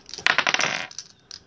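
A d20 die rolled on a table during a tabletop game session, a quick burst of hard clattering bounces that taper off into a couple of final light taps.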